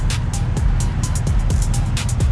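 Supercharged V8 Ford Bronco Raptor on factory beadlock wheels with 4.70 axle gears, a steady loud engine drone with low rumble heard from inside while driving, with faint periodic ticking over the roar.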